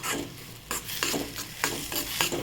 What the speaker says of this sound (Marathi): बारीक गॅसवर याला एक 5 मिनिट असंच परतून घ्यायचं,